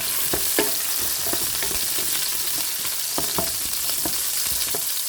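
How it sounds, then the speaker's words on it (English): Chopped garlic sizzles steadily in a hot pan while a utensil stirs it in several light scraping strokes, with the frying hiss constant throughout. "So I'm going to add my garlic."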